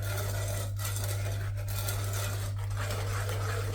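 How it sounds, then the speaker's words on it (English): A spoon scrapes and stirs through a thick, grainy sticky toffee pudding sauce in a pan, soft rhythmic scratching strokes over a constant low electrical hum. "So then we just stir that in."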